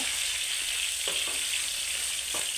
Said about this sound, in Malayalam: ഇതുപോലെ നമുക്ക് ഇളക്കി രണ്ട് സൈഡ് നന്നായിട്ടൊന്ന് മൂപ്പിച്ചെടുക്കാം